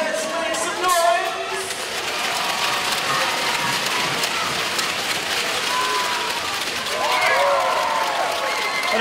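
A basketball crowd at a Cairns Taipans versus Brisbane Bullets game keeps up a continuous wash of applause and cheering. Scattered shouts and whistles rise from the noise, and a voice can be heard talking over it.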